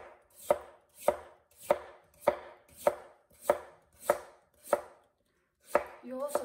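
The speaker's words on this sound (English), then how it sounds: "Here's two potatoes, skin peeled, and we can cut it." A knife chops peeled potatoes on a cutting board in about ten crisp, evenly spaced strikes, close and clear, with one short pause before the last strokes and a faint voice starting at the end.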